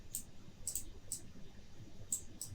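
White noise shaped by an envelope and a 4-pole bandpass filter: faint, bright hissy bursts, about five short ones spaced irregularly over a quiet low rumble.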